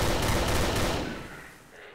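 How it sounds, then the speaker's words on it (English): Big Sill machine gun from a weapons mod in Garry's Mod firing a loud, dense burst of rapid gunfire up close, then tailing off in a fading echo. "Then we have something called Big Sill, which is basically a machine gun."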